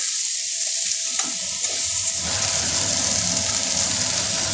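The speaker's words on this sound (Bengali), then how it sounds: "বেগুনটাকে একটু ভাজা ভাজা করব" Eggplant fries in a pan after cumin seeds, giving a close, continuous sizzle with scraping stir sounds, and a few clinks early on.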